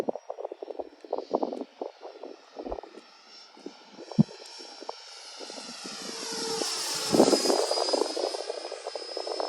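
A model F-86 jet flies on a windy day, its engine whine rising and sweeping in pitch as it passes close by, over gusty wind noise and scattered handling sounds.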